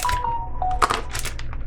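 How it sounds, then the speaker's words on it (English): A mobile phone gives off a short electronic chime of a few clear tonal beeps, followed by some faint clicks and rustle, heard close and alone. "My phone just said hello to you guys."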